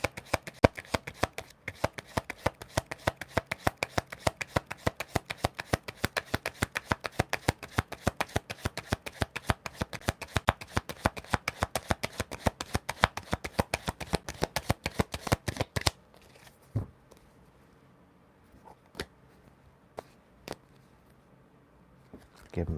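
Tarot cards are shuffled in a rapid, continuous riffle of dense crisp slaps for about sixteen seconds, close and loud, then only a few scattered card taps follow in near quiet.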